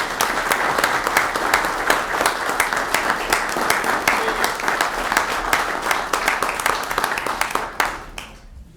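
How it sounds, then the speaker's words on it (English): Steady, full applause from a crowd at a village board meeting honoring the Fire and Police Commission, continuous clapping for several seconds before it cuts off abruptly. "So it's a huge round of applause for the Fire and Police Commission."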